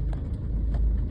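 A car moves slowly along a road at night through an ordnance factory residential colony, giving a steady, low, moderate engine rumble with no talk.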